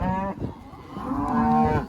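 Cattle on a farm, cows and calves, give a couple of overlapping mooing calls close by, one low drawn-out bellow followed by another rising moo, with no talking.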